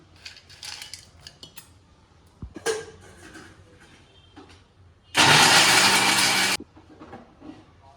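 A mixer jar grinds dry-roasted panjiri ingredients in one loud, dense burst of about a second and a half, preceded by light clinks and handling noises in a kitchen.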